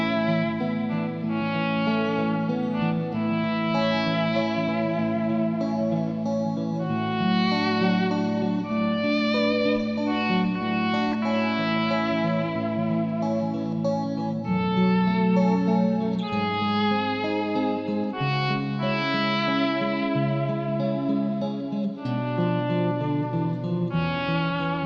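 A melody is swelled in volume through a potentiometer and drenched in heavy reverb, a long sustained run of smooth overlapping tones that hold steady and loud throughout with no talking.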